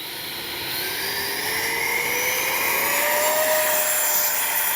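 A Freewing F-18 90mm EDF radio-controlled jet spooling up for takeoff, its ducted fan a loud, steady whine that rises gradually in pitch and volume, heard alone and close.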